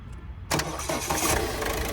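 Quiet for a moment, then a used car's engine fires abruptly and keeps running loudly and steadily up close, with no voices.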